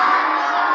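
A religious gathering's crowd shouts back the Nara-e-Takbeer slogan in one brief, loud, unified burst of many voices.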